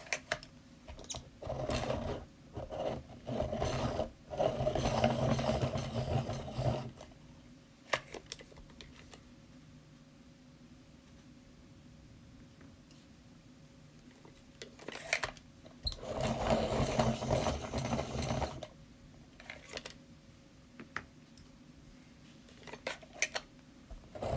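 Tools being sharpened on a sharpening machine in bursts of gritty grinding, two main passes a few seconds long with short touches in between and quiet pauses, moderately loud and close, no talk.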